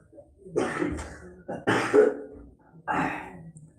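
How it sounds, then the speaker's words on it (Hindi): Several harsh coughs in quick succession, close by, with brief pauses between bursts and no speech. "खांसी हो गया है"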